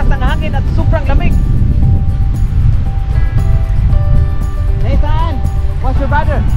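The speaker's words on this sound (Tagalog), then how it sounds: "Sobrang malakas ang hangin at sobrang lamig." Strong, cold wind buffets the microphone beside a lake where boats go out, a constant low roaring rumble, while several people talk loudly over it.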